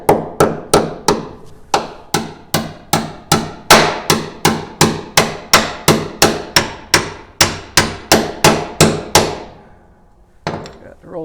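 A hammer drives a roll pin back through the collar of a hydraulic cylinder on a baler, with about twenty-five sharp metallic strikes in a quick, steady rhythm, loud and close, then a short pause and one more knock.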